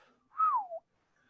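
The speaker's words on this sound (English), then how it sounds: "Oh wow, you got a whistle." A single short whistle tone, rising briefly and then falling in pitch, clear and close against otherwise quiet surroundings.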